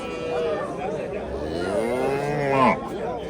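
Cattle market in Angren, Tashkent region, where a cow gives a long, loud, close moo that rises and swells toward the end, with market chatter and voices around it.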